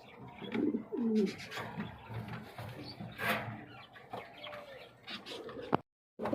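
A black running pair of pigeons makes close, soft coos and clucking calls in short irregular bursts, ending in a brief silence.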